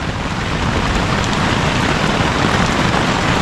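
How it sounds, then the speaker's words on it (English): Heavy rain pounds steadily on a tent at a motorcycle campsite, a dense, loud, unbroken roar that fills the whole clip with no voices. "Hopefully the rain will pass soon."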